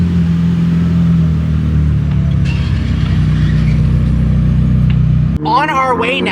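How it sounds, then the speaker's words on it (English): A McLaren Senna supercar rolls past with a loud, steady engine drone that holds close and constant, then cuts off abruptly into a different, warbling sound at the end. "The Hamilton collection rolling through. And the new Senna."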